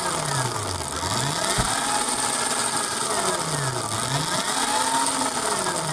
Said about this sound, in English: So every time you rev it up and then let off, and let the engine,